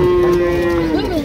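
A Holstein Friesian cow at a rainy cattle market in Cumilla lets out one loud, close, drawn-out moo that holds steady and then bends down at the end, with faint crowd murmur behind it.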